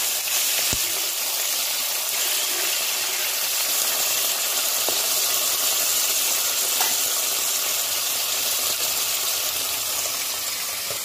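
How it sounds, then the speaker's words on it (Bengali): Live koi fish fry in hot oil during village Bengali cooking, giving a steady, dense sizzle and hiss that runs unbroken from start to finish with a few faint clicks and no talking. "এদিকে মাছটা একটু উল্টে দেওয়া হলো, কারণ একটা পিঠ কিন্তু ভাজা প্রায় হয়ে গেছে।"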